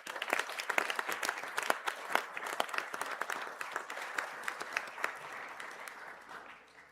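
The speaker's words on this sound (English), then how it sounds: "Could we please give all the graduates a round of applause?" A large audience at a university graduation conferring ceremony applauds steadily for several seconds, a dense patter of many clapping hands heard from a distance, tapering slightly at the end.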